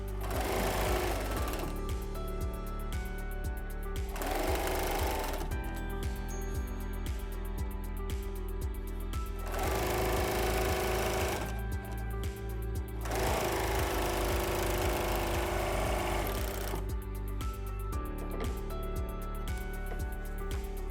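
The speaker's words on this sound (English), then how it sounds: "And it is now time to pin and finish serging the seam." A serger sewing machine finishing a seam on fabric binding runs in several steady, close, buzzing bursts with short pauses between them, with no talking.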